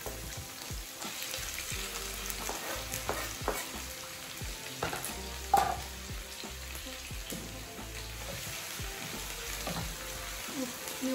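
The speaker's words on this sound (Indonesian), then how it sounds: "nah yang digoreng duluan itu bongkotnya, terus bawang putih sama bawang merah aja" Torch ginger (bongkot), garlic and shallots fry in a hot pan before chili is added, a steady close sizzle broken by scraping stirs and spatula knocks, with one sharper clatter midway.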